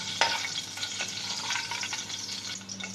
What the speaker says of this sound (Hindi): इन हरी मिर्चों को डाल के मैं हल्का सा फ्राई करूँगी इस तरह से